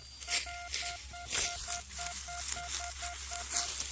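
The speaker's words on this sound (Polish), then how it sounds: "Odłożyłem wykrywacz, a tam jest kolorowy, piękny sygnał" A metal detector gives a steady series of short, evenly spaced electronic beeps, repeating rapidly at one pitch over faint rustling and outdoor noise.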